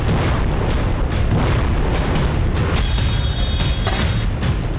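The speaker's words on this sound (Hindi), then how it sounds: "इजराइल ने बेरूत और साउथ लेबनान में धमाकेदार एयर स्ट्राइक की।" Air strikes on Beirut and south Lebanon produce a dense, loud, continuous roar of booming explosions with no pauses and no talking.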